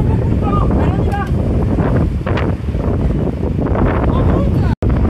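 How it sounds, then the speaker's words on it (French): Strong gusting wind buffets the microphone in a loud, constant roar, with voices speaking faintly underneath. "Et je vous confirme, il y a vraiment beaucoup de vent."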